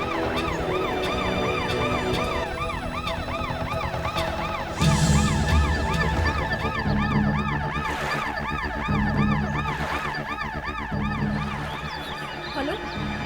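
An ambulance siren wails in a steady, loud, repeating up-and-down cycle that runs throughout, with a low vehicle rumble underneath and no talking.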